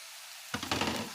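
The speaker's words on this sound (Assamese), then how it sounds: "এতিয়া মই ইয়াত শাকৰ গুড়াখিনি, জিৰা আৰু অলপ হালধি ইয়াত দি দিছোঁ।" Dried greens powder, cumin and turmeric hitting hot oil in a pan, a sudden knock followed by a short burst of sizzling that fades quickly, with no talk.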